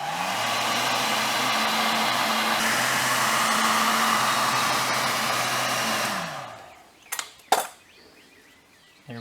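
A heat gun blows steadily and loudly while warming the door seal of a Jaguar XK8 coupe, a continuous broadband whoosh that cuts off sharply, followed by a couple of brief clicks and knocks.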